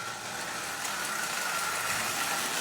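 An 85-year-old Marx prewar 999 tin litho toy locomotive runs steadily with a continuous, fairly loud whirring and grinding gear noise and no pauses.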